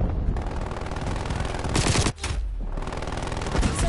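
Sentry turret fire in the Black Ops Cold War video game, a dense continuous automatic rattle that holds loud throughout with one brief break and no spoken voice.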